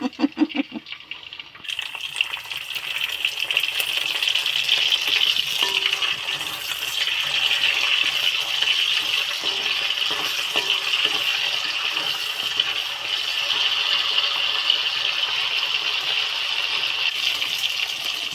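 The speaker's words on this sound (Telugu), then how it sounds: "మా అమ్మ గంటేసి వాటిని అటు ఇటు అటు ఇటు రోల్ చేసి తిప్పుతుంది" Okra and onions frying in a pan for a ladies' finger curry, stirred and rolled with a ladle, a steady hissing sizzle that runs for many seconds after a short clatter at the start.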